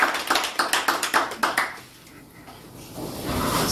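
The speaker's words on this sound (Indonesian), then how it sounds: "Mari tepuk tangan." A small group claps in a quick, distinct rhythm of about a dozen sharp claps, then stops, leaving quieter background noise.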